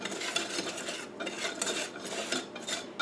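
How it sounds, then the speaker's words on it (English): Sifted flour and cocoa powder whisked together in a bowl, a close, repeated scraping and tapping of the whisk against the bowl in an uneven rhythm, fairly quiet, no voices. "I just want to mix them together here."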